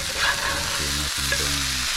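Green banana hash browns fry in a pan with a loud, even sizzle and stirring scrapes, while a steady low hum runs underneath.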